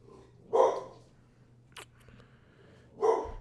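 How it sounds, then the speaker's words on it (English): A pet dog at home barks two single sharp woofs about two and a half seconds apart, fairly close and clear, with a faint click between them. "I don't know why my dog is barking."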